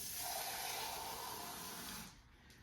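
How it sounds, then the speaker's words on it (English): Water pours steadily into a crock pot, a continuous hissing splash that runs close and fairly loud for about two seconds before cutting off abruptly. "We're going to pour some water into the crock pot."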